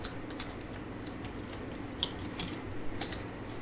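Python code is typed on a computer keyboard in quick, light keystrokes, close and steady, with a few sharper clicks standing out; no talking.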